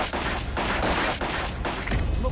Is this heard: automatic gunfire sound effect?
yes